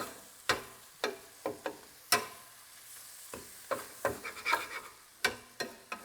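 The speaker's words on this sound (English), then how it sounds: "we just kind of fold and chop that cheese in" A spatula chops and folds cheese into a beef mix on a hot griddle, giving sharp scraping clacks at irregular intervals over a faint sizzle, close and fairly quiet.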